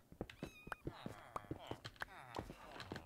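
A Minecraft cat meows several times in short, repeated calls, mixed with clip-clop steps and other game sounds at moderate loudness, with no talk over it.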